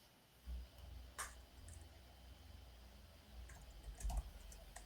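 Someone types on a computer keyboard while editing documentation online, giving scattered clicking keystrokes at moderate distance over a low steady room hum, with a small cluster of keypresses near the end.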